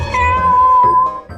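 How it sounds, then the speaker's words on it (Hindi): A pet cat gives one long, loud, drawn-out meow close by, followed by a short softer mew, with no speech over it. "हाँ, मेरी बिल्ली।"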